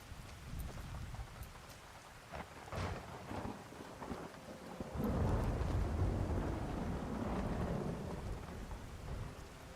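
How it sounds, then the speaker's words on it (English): Steady rain and rumbling thunder heard from inside a tent in the video game Skyrim, a constant hiss of drops with deep low rolls swelling midway, moderately loud with no talking. "you'll hear the sound of the rain"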